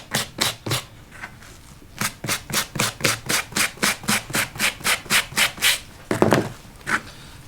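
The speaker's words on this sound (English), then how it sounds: "get in there in between each feather and scrape all that yellow fat out as much as you can" Steady scraping of yellow fat from between the spread tail feathers of a turkey fan, about twenty even rasping strokes in a quick rhythm, close and fairly loud, with a brief pause before a final few strokes.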